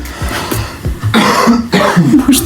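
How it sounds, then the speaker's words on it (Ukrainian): A few quick coughs close to the microphone, followed by a rougher throat-clearing cough. "Можна покашлять?"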